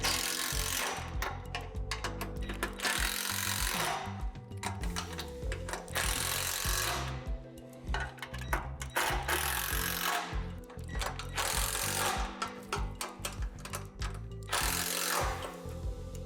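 Hardware on the angled brackets of a Lifetime Adventure Tower playset being tightened, heard as steady ratcheting clicks and mechanical tool noise in repeated bursts with brief pauses, loud and close with no talking.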